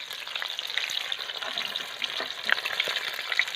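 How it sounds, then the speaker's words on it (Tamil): Home-made KFC-style chicken deep fries in hot oil, giving a steady, moderately loud crackling sizzle with small pops scattered throughout and no speech. "எண்ணெய் நல்லா சூடானதுனால நல்லா வெந்துருச்சு"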